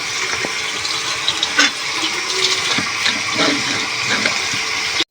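Shredded cabbage is stirred in a hot kadai, giving a loud, steady sizzling hiss broken by brief scraping and tossing sounds, close up with no talk.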